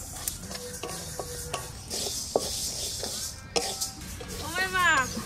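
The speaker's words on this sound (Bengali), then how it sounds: "ডালটা আমি ভেজে ধুয়ে নেব।" Mung dal stirred and frying in a pan for a fish-head dal, with scraping and clinking utensil strokes and a soft sizzle, as a voice briefly speaks near the end.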